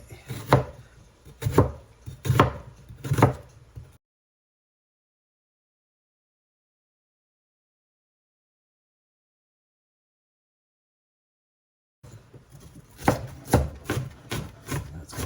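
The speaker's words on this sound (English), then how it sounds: "we're going to dice up half of a sweet onion" Half a sweet onion is diced with a knife on a cutting board, producing bursts of sharp, rhythmic chopping taps, close and clear, separated by a long silent gap.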